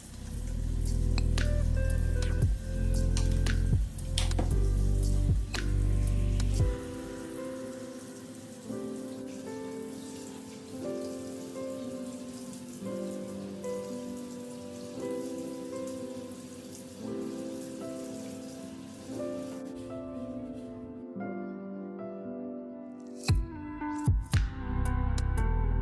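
Water runs into a hot bath with a steady splashing patter, loud at first and then softer and even for a long stretch, trailing off near the end with a few scattered drips.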